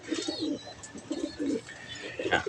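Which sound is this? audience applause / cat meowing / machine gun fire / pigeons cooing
pigeons cooing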